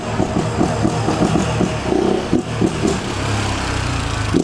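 A motorcycle engine with no air filter idles and revs with a raw, rattling drone, close and steady, the pitch rising and falling in short pulses.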